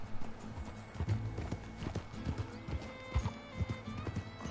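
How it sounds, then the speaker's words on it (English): Rapid hoofbeats of a galloping horse in Red Dead Redemption 2, loud and rhythmic, clopping over a dense rumbling background with no voices. "Charles, why the hell's your horse so slow?"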